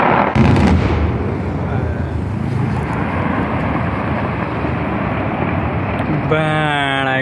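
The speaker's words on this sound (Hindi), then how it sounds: "बीटो उड़ा दिया रे भाई पहाड़ को लाइव" An explosive blast goes off on a mountainside beside the NH 58 highway. It starts with a sudden loud boom, followed by a long, heavy, rolling rumble, and a brief tonal call sounds near the end.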